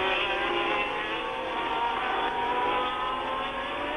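A 1979 Ferrari Formula One car driven by Villeneuve at full throttle on an uphill stretch of the French Grand Prix, its engine holding a loud, steady, high-pitched howl throughout.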